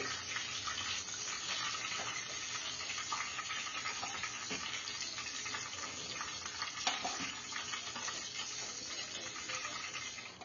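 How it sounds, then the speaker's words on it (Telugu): Chicken lollipop pieces frying in hot oil, a steady, dense sizzle and bubbling at moderate level with no voices. "మంచి కలర్ వచ్చే విధంగా ముక్కలైతే ఫ్రై చేసుకోవాలండి"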